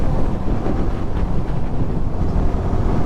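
Cold wind roars steadily across the microphone of a motorbike ride on a Sunday pre-dawn trip out of Bangalore, a loud, constant rushing buffet with no voices.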